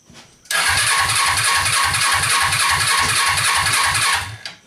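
Suzuki engine cranking over with a steady, rapid rhythmic chug of the starter, loud and close, running about four seconds before cutting off, with starter fluid added to help it fire.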